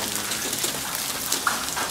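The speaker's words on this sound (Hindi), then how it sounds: "काफी तेज बारिश हो रही है यार पिशावर में अभी।" Heavy rain pouring down in Peshawar, a steady loud hiss of drops hitting surfaces with a few brighter splashes, continuous and close, with no talking.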